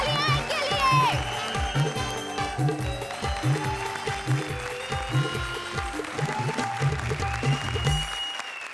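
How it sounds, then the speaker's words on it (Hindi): Audience applause in a comedy show studio, a steady wash of clapping running under music with a regular thumping beat, loud and close, fading out at the end. "जोरदार तालियां इनके लिए"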